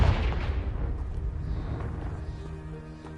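Confringo blasting spell explosion in the video game Hogwarts Legacy, a loud boom at the start that rumbles and decays over a few seconds.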